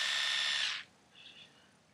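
An Oral-B Professional Care electric toothbrush buzzing with a high steady whine close by, stopping abruptly, then a faint short buzz follows.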